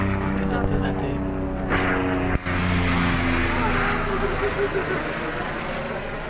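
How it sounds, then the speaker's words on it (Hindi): A helicopter flies over the Kedarnath trek with a steady, rumbling engine and rotor drone that fills the background while people talk nearby. "चलता रहता है इधर, बहुत सारे हेलीकॉप्टर है।"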